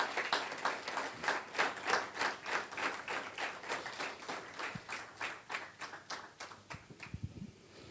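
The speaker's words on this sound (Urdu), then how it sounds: "یہ تالیاں جو آپ نے میرے لیے بجائیں" A church congregation in Sharjah applauds together, a dense, steady run of quick, even claps that carries on for several seconds before thinning out near the end.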